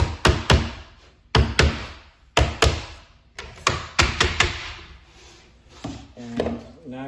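Sharp wooden taps as a cabinet filler strip is driven flush with a door front using a sacrificial block, irregular clusters of close, crisp knocks separated by short pauses.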